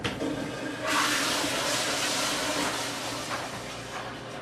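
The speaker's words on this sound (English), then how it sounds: "I heard that toilet flush" A toilet flushing nearby, a sudden rush of water swelling into a loud hissing gush that slowly tapers over a few seconds, with no voices.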